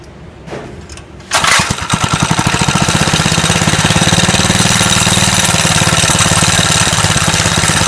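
A go-kart engine, just had its valves adjusted, cranks and catches after a brief quiet lead-in, then settles into a loud, steady, close-up idle with an even rapid pulse.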